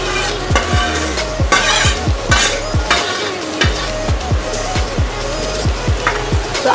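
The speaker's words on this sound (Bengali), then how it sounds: "পেঁয়াজটা হাফ ভাজা হয়ে গেছে, এইবারে দিয়ে দেবে বিনস আর গাজর" Sliced onion frying in a pan with beans and carrots, a steady bright sizzle broken by repeated rhythmic scraping strokes of a spatula stirring the vegetables, close and loud.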